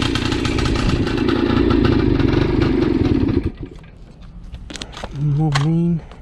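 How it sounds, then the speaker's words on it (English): A cheap moped's small engine runs loudly on a cross-country ride, a steady droning buzz that drops off partway, followed by a voice speaking briefly over the quieter idle. "this bike is so loud, man."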